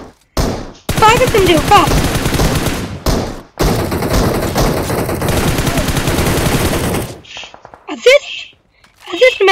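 Loud automatic gunfire in the mobile battle royale BGMI rattles in two long close bursts separated by brief gaps, then gives way to someone speaking Hindi near the end.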